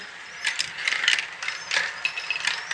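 Marbles rattling and clicking down a zigzag track on a marble run with several elevators, a steady run of quick, close ticks and small clacks with no talk.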